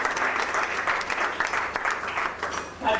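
A church congregation clapping loudly and continuously for the Lord, a dense roomful of applause that swells again at the end.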